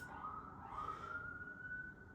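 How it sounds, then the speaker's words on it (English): Emergency vehicle sirens sound faintly from outside, a single wailing tone rising and holding over about two seconds with no talk. "hope that those sirens don't continue"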